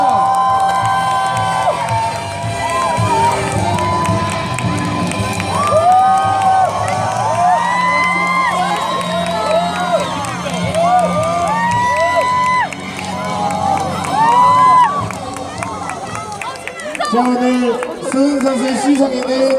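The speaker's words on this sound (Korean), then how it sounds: "박수를 부탁드립니다" Baseball fans in a stadium at a Nexen versus Hanwha game cheer, shout and whoop as a large crowd over nearly twenty seconds, while an amplified voice speaks over the noise.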